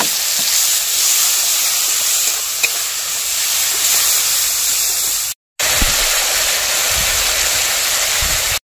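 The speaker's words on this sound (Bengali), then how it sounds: "এবার আমি জলটা দিয়ে দেবো।" Water poured into Kashmiri chilli powder, red chilli powder and turmeric frying in a pan, setting off a loud, steady, close sizzling hiss that carries on with only a momentary break.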